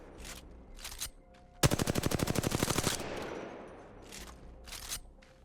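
Automatic gunfire in the Apex Legends video game sounds as one rapid burst of about fifteen evenly spaced shots lasting over a second. A few softer footsteps and clicks come before and after it.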